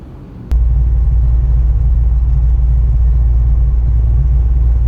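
A John Deere 2210 sub-compact tractor plowing snow down a sloped driveway, its engine settling into a loud, steady low rumble after a sharp click near the start, droning on without change and with no talking.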